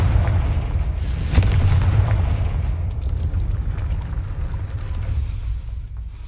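A Confringo blasting spell explodes in Hogwarts Legacy, a deep rumbling boom that swells and slowly fades over several seconds under low game ambience.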